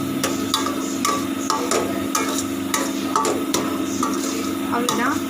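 Egg 65 masala paste fries in a pan while a spoon stirs it, giving a series of sharp scraping clicks over a low hum and a steady sizzle, close up.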